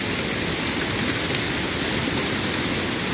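A flooded waterfall carrying stones roars as a loud, unbroken wall of rushing water, close and constant throughout.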